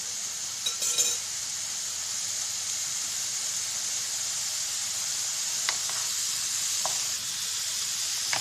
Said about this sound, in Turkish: tuzu, karabiberi, sarımsağı, sıvı yağı güzelce marine ettikten sonra kavuralım